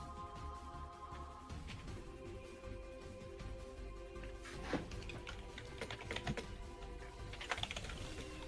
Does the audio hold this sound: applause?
no